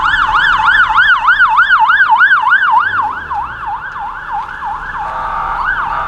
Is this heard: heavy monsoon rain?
no